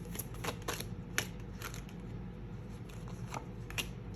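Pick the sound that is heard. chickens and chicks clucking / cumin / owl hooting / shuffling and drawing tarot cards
shuffling and drawing tarot cards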